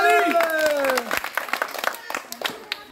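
A small village audience claps for the third-place winner of a boys' rooster-fight game. A voice comes first, then scattered, uneven hand claps follow, close and fairly loud.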